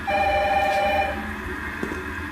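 A telephone rings inside the Resident Evil video game, a steady electronic trill that fills the short clip and then fades, with a faint soft knock near the end and no talking.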